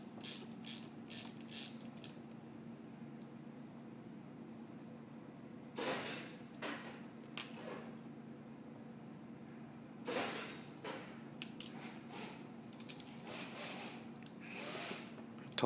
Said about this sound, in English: First of all, we're gonna loosen the bolt from the plier.